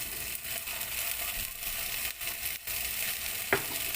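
Beef and broccoli stir-fry in a pan while oyster sauce goes in, giving a steady close sizzle broken by several stirring scrapes and one sharp clink near the end, with no voices.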